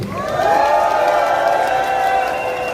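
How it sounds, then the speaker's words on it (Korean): Crowd at an outdoor candlelight rally in heavy rain cheering and applauding for military court judges, a loud, sustained wash of voices with whoops and clapping throughout. "우리 군사법 판사들의 박수 한번 쳐주세요."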